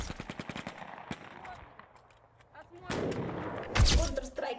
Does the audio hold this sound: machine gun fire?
yes